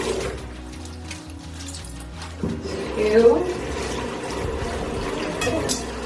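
Water runs steadily from a sink tap while clothes are washed by hand, a constant splashing stream under a person's spoken instructions.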